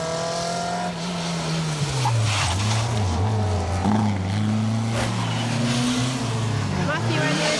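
Rally cars, a Peugeot and two Vauxhall Novas, race past on a stage in Anglesey, engines droning and shifting pitch as they go by close and loud, with commentary running over them.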